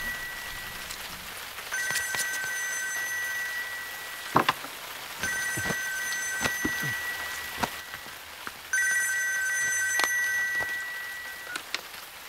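A telephone rings in an indoor film scene with an electronic tone, sounding in three separate bursts of about two seconds each, separated by short pauses. Faint thuds and clicks fall between the rings.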